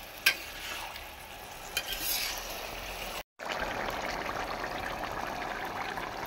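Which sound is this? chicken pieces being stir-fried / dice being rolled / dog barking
chicken pieces being stir-fried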